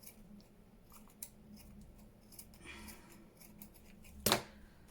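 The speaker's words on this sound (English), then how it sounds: "cut it off around there with the worst scissors ever" Scissors snipping paper for an envelope folio journal, a few faint soft cuts followed by one sharp, louder snip near the end, close up with no talking.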